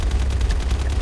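Sniper rifle fire in a video game, heard as a rapid series of short, muffled shot bursts over a low rumble, moderately loud with no talking.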